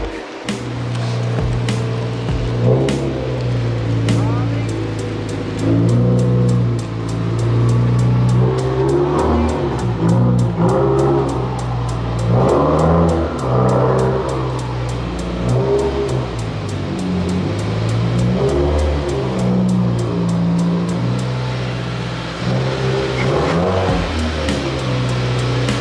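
A Subaru WRX car engine revs hard and repeatedly while backing in, loud and close with surging, rising and falling engine tones and a constant rapid ticking throughout.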